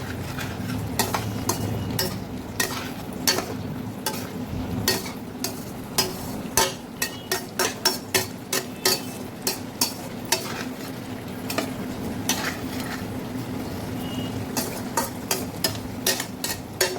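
Onion, green chili, chopped tomato and ginger fry in a pan, with a steady sizzle under a run of sharp, repeated utensil scrapes and taps as they are stirred.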